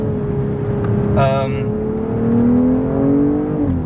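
A 2023 BMW M440i engine revs up with a rising, droning growl, steady and loud throughout, with a brief higher whine partway through.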